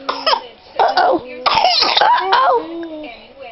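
A baby gives a few short coughs close to the microphone, mixed with small babbling vocal sounds, while an adult speaks softly nearby.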